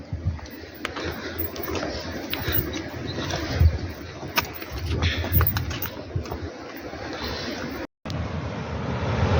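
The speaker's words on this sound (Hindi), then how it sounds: "ये कलकलाहती झरना नदी जो कि शेषनाग झील से निकल के आ रही है।" A gushing mountain stream flows out of Sheshnag lake on the Amarnath trail, making a continuous broadband roar of rushing water with faint background voices.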